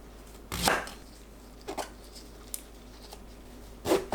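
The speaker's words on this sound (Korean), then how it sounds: "씻은 가지는 꼭지를 제거합니다" A knife cuts the stem off a washed eggplant on a board, giving one firm chopping knock followed by a couple of softer taps and a final crisp cut, close and isolated against a quiet kitchen background.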